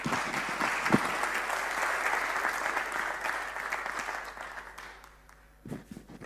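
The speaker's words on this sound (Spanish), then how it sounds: "Un fuerte aplauso." Audience applause greets a speaker at a talk, a dense steady round of clapping that thins out toward the end, with a few louder individual claps near the close.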